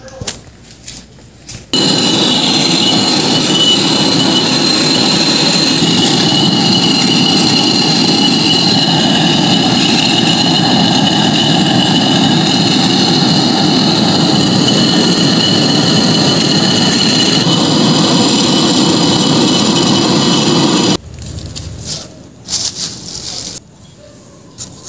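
A torch brazing a leak on a refrigerator pipe, a loud steady roaring hiss that runs for about nineteen seconds before cutting off, with a few clanks and a little talk before and after.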